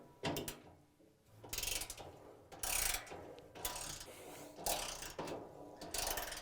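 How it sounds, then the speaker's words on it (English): A ratchet turns a 7/16 inch socket to loosen the suspension spring nut under a Whirlpool, KitchenAid or Maytag washer, giving repeated bursts of clicking with short pauses between strokes, close and fairly loud. "use a 7/16 inch socket and a ratchet to loosen up the nut so the spring tension is released"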